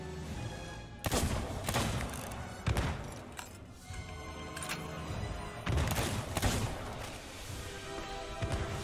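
Sniper rifle gunfire in the video game Sea of Thieves, with several sharp cracks and thumps scattered through a dense, noisy game soundscape, fairly loud and close.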